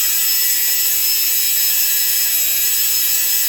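A rotary tool spinning a felt wheel to smooth a latex mask gives a steady, close, hissing whine that holds unbroken throughout, with no talking.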